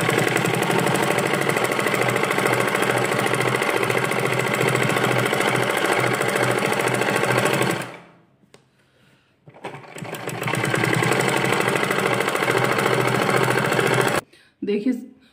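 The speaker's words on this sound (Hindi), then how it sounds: "देखिए फ्रेंड्स मैंने ये सिलाई लगा दी है।" A sewing machine stitches a strip onto a garment sleeve, running as a steady loud whir for several seconds, stopping briefly, then starting again for a second long run before a short pause.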